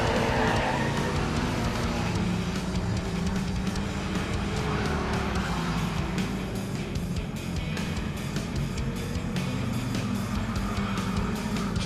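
Street stock race cars at Riverside Speedway roar steadily as a pack of engines drones on the track, with tire noise and occasional passing surges, loud and continuous throughout.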